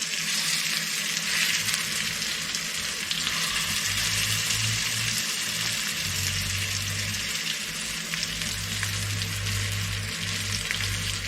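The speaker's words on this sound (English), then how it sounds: "When we want this, we want to sear the meat, okay?" Beef roast searing in a hot pan for a Sunday roast, giving a dense, even sizzle that runs unbroken for about eleven seconds, with a low rumble underneath and no talking.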